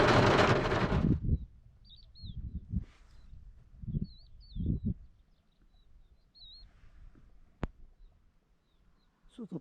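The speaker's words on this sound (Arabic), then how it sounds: "صوت الطيور والدنيا مربعة." Birds chirp outdoors after rain in the countryside northeast of Hail, with short, high, distinct calls repeating at intervals over low rumbles and a few quiet voices.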